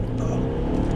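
An all-wheel drive car's engine runs nearby with a smooth, low rumbling drone, brief and steady with a slight rise in tone.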